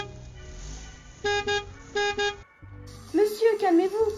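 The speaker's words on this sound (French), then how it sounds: "Monsieur, calmez-vous, ne klaxonnez pas partout" A car horn honks in a village street, two pairs of short loud toots sounding over background noise, followed by a voice speaking in an animated, pitch-sliding way.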